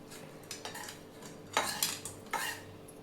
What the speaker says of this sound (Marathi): आता हे काढून घेऊया आपण एका डिशमध्ये